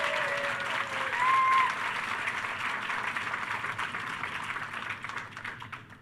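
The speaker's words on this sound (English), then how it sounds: "So would you give the staff a round of applause" Sustained applause from a commencement crowd honoring the staff, a dense wash of clapping that swells early and then gradually thins, with a faint whistle-like tone near the start.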